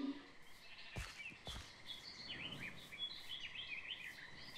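Birds chirp faintly in a forest within a Minecraft modpack game, with short high tweets and trills repeating over a soft ambient hiss, plus a couple of brief low thumps early on.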